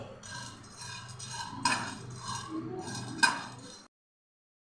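Dry long pepper pods rattle and clink against a metal pan as they are dry-roasted and stirred, with a few sharper knocks, close up, before a sudden silence.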